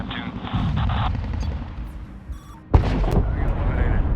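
A missile strike in the 2010 Medal of Honor game: sustained rumbling combat noise and gunfire build to a sudden loud explosion boom, followed by a roaring, crackling aftermath.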